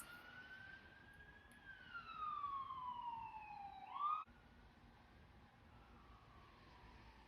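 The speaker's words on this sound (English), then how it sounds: "an ambulance just went by" An ambulance siren sweeps past at a moderate distance, its wailing tone falling in pitch as it passes and cutting off abruptly, leaving quiet background.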